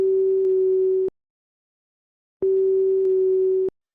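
Two long steady telephone ringback tones after dialing, each about a second, separated by a pause, clean and clear with no voices.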